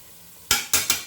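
Three quick scraping strokes of a utensil stirring drained prawns in a colander or pot while making prawn biryani, loud and close after a brief quiet start.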